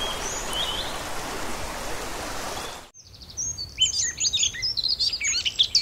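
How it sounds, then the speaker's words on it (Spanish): Crested tit singing in a high mountain pine forest: after a loud rushing stream-like wash fades out, a series of high, thin chirps and trills rings out clearly and fairly close. "los pájaros del pinar andan muy ocupados en sacar adelante sus nidos. El herrerillo capuchino es uno de ellos."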